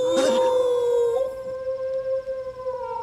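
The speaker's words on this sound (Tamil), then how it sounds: "தூரத்துல ஒரு நாய்" A dog howls in the distance, one long wavering tone that holds steady and slowly fades over a faint background hiss.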